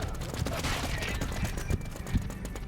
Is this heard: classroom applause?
no